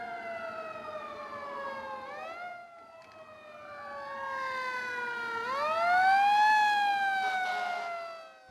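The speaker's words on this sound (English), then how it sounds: "When emergency vehicles approach, always give them the right-of-way." An emergency vehicle siren wails loud and steady, its pitch sliding up and down in long sweeps as the vehicle approaches on a road near a multi-lane roundabout.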